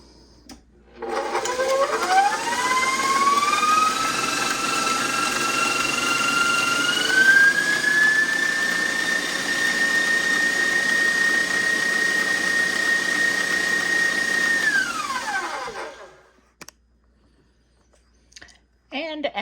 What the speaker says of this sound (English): I've just got my whisk on there, and we're just going to cream that